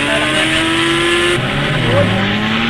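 A loud motorbike engine in the video game Indian Bike Driving 3D drones at a high, steady pitch, then shifts down and climbs again as the bike speeds along, with no one talking.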